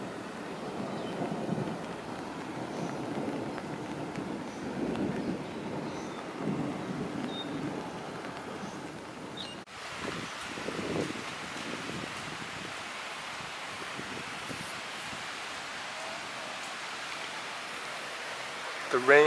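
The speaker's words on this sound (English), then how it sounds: "The rain has begun." Rain begins falling in the Singapore Botanic Gardens as a thunderstorm rolls in. A steady broadband hiss of rainfall runs throughout, with a low rumble in the first half before the sound shifts to a thinner, more even patter.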